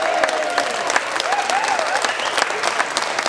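An audience at a live comedy and music show in Lavaltrie claps loudly and steadily throughout, with a few scattered whoops rising over the dense applause.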